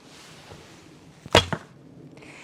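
A single arrow is loosed from a 38 lb Simsek Sipahi short bow: a sharp, close string twang and whoosh after quiet room ambience, then a faint thud.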